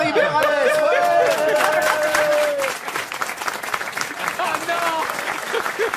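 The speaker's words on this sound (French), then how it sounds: "Standing ovation pour Valérie Mérès." A studio audience rises into a standing ovation during a French radio-TV comedy panel show, dense clapping and cheering that swells at first and then settles into steady applause with chatter mixed in.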